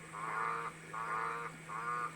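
Olive toads calling: three drawn-out, buzzy croaks evenly spaced, each about half a second, over a faint steady low hum.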